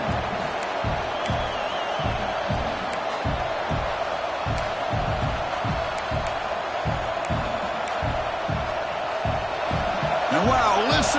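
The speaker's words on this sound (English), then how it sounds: "listen to this crowd noise. This stadium is vibrating." In a Madden football video game, the stadium crowd roars in a steady, loud wash with rhythmic stomping or clapping thumps pulsing underneath, as a commentator talks over it.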